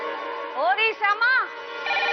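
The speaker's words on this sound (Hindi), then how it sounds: "फोन बज रहा है, जल्दी आ।" An electronic phone ringtone warbles in rising and falling tones, close and fairly loud, repeating over a couple of seconds with no talking.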